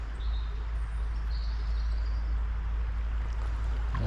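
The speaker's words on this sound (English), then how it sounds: "Lovely to be out hearing the birds and everything back in the river." Birds chirp and whistle in short, faint calls over the steady low rush of a river, heard from a bank outdoors.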